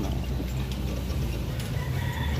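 Chickens at a farm coop heard from nearby as a dense, continuous mix of clucking and crowing over a steady rustling background, with no talking.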